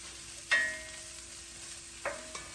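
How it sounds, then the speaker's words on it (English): Onions frying in a pan, a quiet steady sizzle broken by a sharp utensil clank and scrape as they are stirred, followed by two lighter knocks. "You can hear those onions sizzling."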